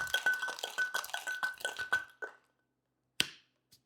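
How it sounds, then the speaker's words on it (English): A rapid series of metallic taps and clinks rings out, then fades, followed by one sharp, bright metal clank after a short pause. "Unlock the tin."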